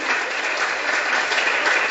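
A church congregation claps together during a Spanish-language sermon, producing dense, continuous applause that stays loud and even for the whole stretch.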